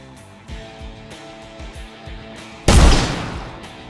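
Gunshots in the video game Shootmephrenia: a soft, regular series of thuds leads up to a single loud, close gunshot blast that rings out and decays.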